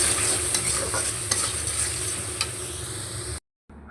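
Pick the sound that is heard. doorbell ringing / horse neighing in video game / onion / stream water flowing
onion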